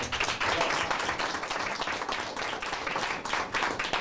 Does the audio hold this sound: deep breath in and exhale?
no